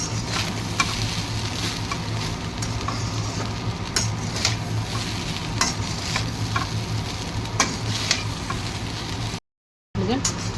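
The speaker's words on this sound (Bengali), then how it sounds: "এখানে এবার যেগুলো সব ভেজে রেখেছিলাম কাজু কিশমিশ আর পনিরটা, এবার সেগুলো মিশিয়ে" A spoon stirs veg fried rice with fried cashews, raisins and paneer in a sizzling pan, a steady frying hiss broken by repeated scraping clicks of utensil against the pan, with a brief dropout near the end.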